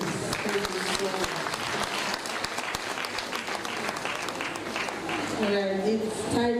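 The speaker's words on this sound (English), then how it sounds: "Another round of applause, please" An audience at a University of Abuja Women Association event claps in dense, sustained applause that fills the room, with a voice talking over it near the end.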